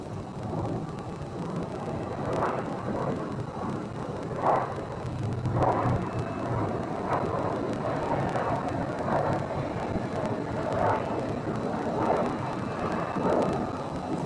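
Steady, distant engine roar of queued aircraft idling and taxiing at Phoenix airport while waiting for departure, a continuous broadband rumble with occasional swells, no voices over it.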